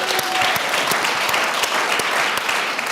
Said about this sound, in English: let's give another round of applause to the musicians.